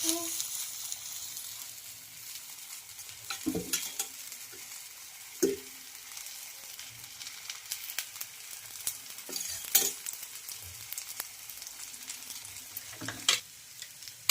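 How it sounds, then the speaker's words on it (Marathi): Egg-coated bread sizzles and fries quietly on a hot griddle, with occasional scraping and stirring sounds from a utensil breaking the steady hiss. "छान असं तव्यावर फ्राय करून घ्यायचं आहे"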